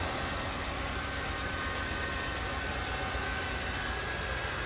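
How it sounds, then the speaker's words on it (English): A stock 2011 Ford F-150 Lariat Limited with the 6.2 liter engine and factory exhaust, idling steadily in a constant, noisy hum with no talk. "Truck sounds like you'd expect from a stock 2011 Ford F-150."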